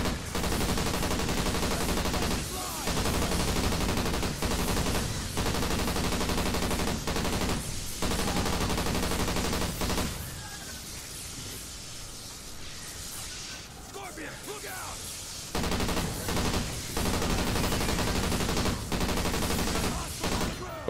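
Sustained LMG fire in Call of Duty Ghosts Extinction mode rattles loudly and almost continuously in long bursts, with a short lull partway through before the rapid shooting resumes.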